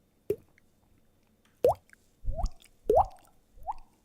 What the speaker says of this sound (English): What was that dripping sound?